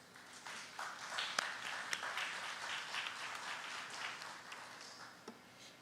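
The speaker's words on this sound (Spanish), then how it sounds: "para quien pido también un fuerte aplauso." Audience applause at a human rights forum, a fairly quiet, even patter of many hands clapping in a hall, with a few sharper isolated claps standing out.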